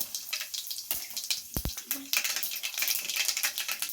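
Cumin and mustard seeds tipped into hot oil, crackling and popping in sharp irregular bursts, with a dense spattering sizzle building after a couple of louder thuds, close and loud.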